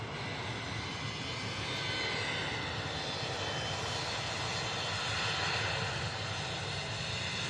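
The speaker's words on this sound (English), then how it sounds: "We'll go ahead and get this United flight taken off" United airliner taking off at Louisville SDF airport, a broad steady engine roar that holds evenly throughout, distant but full, with no voices.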